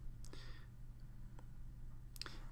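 A few faint, sharp mouse clicks spaced apart in a quiet room, with a pair of clicks near the start and another pair near the end.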